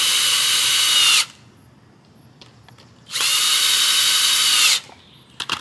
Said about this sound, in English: I'm going to drive the screws in the rest of the way.